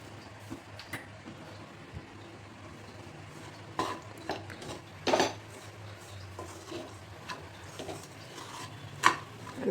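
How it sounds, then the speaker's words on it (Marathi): Soaked sabudana with salt stirred in a pan, light scraping and clinking of a spoon against metal at uneven intervals over a faint background hiss, close by. "आणि 4-5 मिनिट छान हलवून घ्यायचे."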